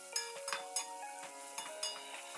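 Metal utensil clinks and scrapes against a pan as ingredients fry in oil for tomato rice, several irregular knocks over a quiet sizzle.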